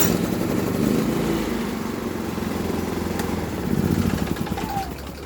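A cold Predator 3500 inverter generator cranking on choke from its remote start button, then running with a steady, loud, throbbing engine drone that rises slightly near the end, with faint birdsong in the background.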